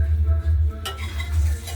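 Bay leaf, white and black cumin and dried chilli fry in hot oil for a katla fish and potato curry, giving a steady low sizzle that turns brighter and hissier partway through, with light stirring.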